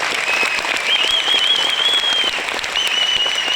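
Sustained loud clapping from a large crowd, steady and dense throughout, with a faint high tone running underneath.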